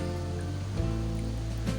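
River water flows steadily at Sanghyang Kenit, a continuous rushing wash under a low hum, close and unbroken throughout.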